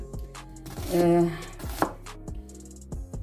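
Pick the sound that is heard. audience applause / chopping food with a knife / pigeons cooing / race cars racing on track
chopping food with a knife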